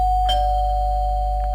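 A doorbell in the Roblox video game gives a single short electronic ding under a constant steady tone, with a faint second chime near the end.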